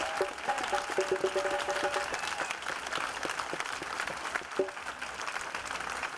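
Outdoor crowd at a peaceful rally in Peekskill, NY applauding the mayor, a continuous spread of clapping with scattered cheers and a few voices mixed in.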